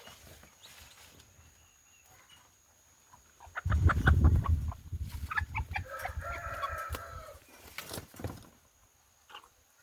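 Chickens, including a hen sick with infectious coryza, cluck and squawk close by in short bursts, with a louder flurry in the middle and a few quieter calls around it.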